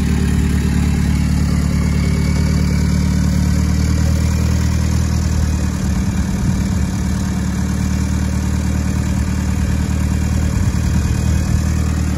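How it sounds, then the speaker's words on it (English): A VW Polo TDI diesel fitted with a bigger turbo runs steadily, a loud constant engine drone with a thin high turbo whistle sitting above it throughout. "so you can definitely hear that turbo whistle at the back"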